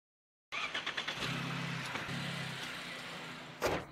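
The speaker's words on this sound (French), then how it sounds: "Je vais simplement faire un essai de la voiture maintenant" A car started up for a test drive, with a quick run of cranking pulses that catch into a steady, close engine idle, a couple of brief revs, and a sharp knock near the end.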